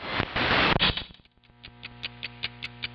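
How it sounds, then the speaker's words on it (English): A clock ticks steadily in a quiet room, a run of faint evenly spaced ticks that becomes clear after a brief burst of louder rustling noise at the start. "if you can hear the clock in the background"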